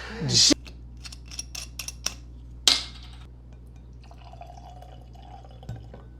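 Weller 12 bourbon whiskey is poured into a glass: a sharp clink of glass, a few quick drips and taps, another clink, then a quieter trickle of liquid, all fairly close and sparse.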